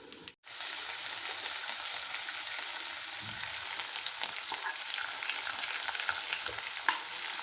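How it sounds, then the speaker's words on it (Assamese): Onions and tomatoes frying in a hot pan, a dense continuous sizzle that starts after a brief gap and holds steady and close throughout. "পিঁয়াজখিনি গৰম কৰি ল'ম"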